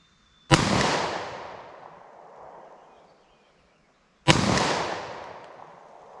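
Two sharp, loud .40 Smith & Wesson Gold Dot pistol shots fired outdoors toward a steel silhouette target at 50 yards, each a crisp crack followed by a long rolling echo decay, spaced about four seconds apart.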